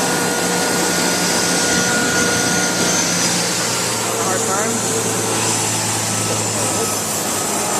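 A wood thickness planer runs as a board is fed through, making a loud, continuous droning roar that barely changes. Faint talking sits under the noise.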